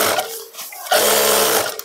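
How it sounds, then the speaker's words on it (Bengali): A sewing machine stitches elastic onto patiala trousers: a brief whir, a short pause, then a faster, steady mechanical buzz of stitching that lasts about a second, close and clear. "সেলাইটা মারা হয়ে গেল"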